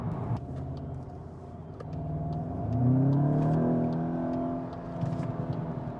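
A car engine revs up and accelerates, pitch rising steadily, with a few faint crackling pops from the exhaust scattered throughout.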